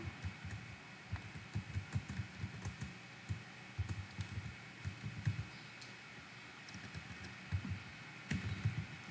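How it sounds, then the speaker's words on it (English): Fingers type on a computer keyboard at a quiet, close range, a continuous run of soft irregular key clicks with brief pauses between bursts. "in the entry box, you type something"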